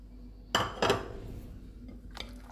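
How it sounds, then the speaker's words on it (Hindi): Chicken being mixed with salt, turmeric, red chilli powder, black pepper and pounded spices in a bowl, giving two close clinks and scrapes in quick succession, then softer stirring and a final light knock. "इन सारी चीज़ों को अच्छे से मिक्स कर लेंगे।"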